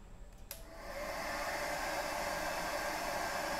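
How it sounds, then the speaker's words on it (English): A click, then a hair dryer on its low setting starts up and blows with a steady, even whooshing hum, close by and constant. "So I've got three settings on this hairdryer"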